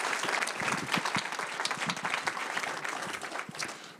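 A church congregation applauds in praise, dense sustained clapping from many hands filling the room evenly for several seconds with no voices over it.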